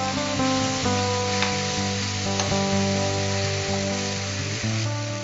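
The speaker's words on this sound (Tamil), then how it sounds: "இது அப்படியே எண்ணெயில் லேசாக வதக்கட்டும்" Chopped green chillies sauté in hot oil for a raw mango dried fish curry, giving a continuous close, crackling sizzle with a steady low hum underneath and no talking.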